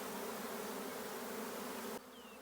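A honeybee swarm hums as the bees go into the hive, a dense, continuous buzz that stays steady, then drops noticeably in volume near the end.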